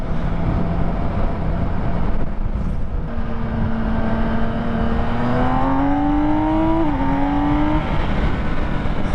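A 2022 BMW K1600 touring motorcycle pulls hard uphill at high elevation, its engine tone climbing steadily in pitch, then a brief dip at a gear change before rising again, loud and close over constant wind rush.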